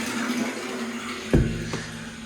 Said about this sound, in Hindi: देखो आवाज़ आ रही है पानी आने की